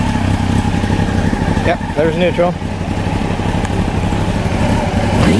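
A motorcycle fitted with an aftermarket exhaust idles in neutral with a deep, throaty, loud and steady rumble close to the mic, while someone speaks briefly over it.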